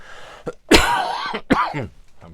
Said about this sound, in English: a bit of a cough